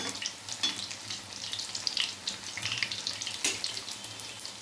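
Oil bubbling and crackling steadily as raw banana bajji fry, a continuous fizzy sizzle with scattered pops, close by and moderately quiet.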